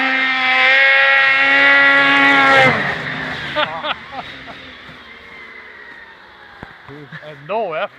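A 500 SnoPro snowmobile with a modified 1000 engine roars loudly and close with a rising whine, then drops off abruptly, leaving faint idling under excited talking from people nearby.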